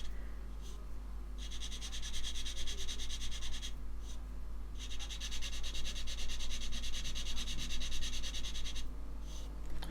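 A medium-grit skinny sander works along the seam of a model kit, making two long stretches of fine, rapid, close scratchy sanding, separated by a short break and set over a steady low hum.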